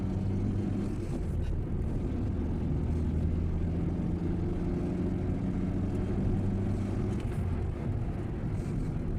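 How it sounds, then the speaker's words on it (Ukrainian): Steady low engine drone and road rumble from inside a moving Renault Modus, constant and fairly loud, with no one speaking. "вам звук передасться автомобіля, наскільки він шумний."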